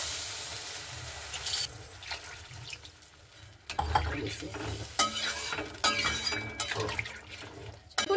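Water poured into a frying pan of potol chingri, pointed gourd with prawns, after the masala is cooked down: sharp hissing and sizzling bursts with clattering stirring in between, close and fairly loud, no voices.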